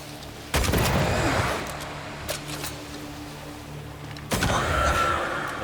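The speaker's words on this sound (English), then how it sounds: "He's about to shoot." Two heavy gunfire blasts from the video game Banishers: Ghosts of New Eden, each a loud booming report with a long decaying tail, separated by a few seconds of quieter ambience.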